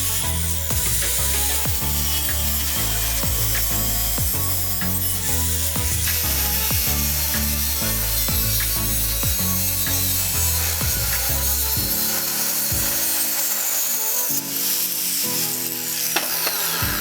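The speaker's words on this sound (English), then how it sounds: "Cut 30 degrees angle at the top of the 40 mm length pipe for the rising main pipe holder" Saw cutting a 30 degree angle into a 40 mm pipe for a rope pump model, a continuous rasping stroke pattern, loud and close, that stops briefly near the end.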